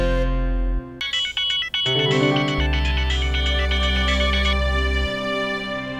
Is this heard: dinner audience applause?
no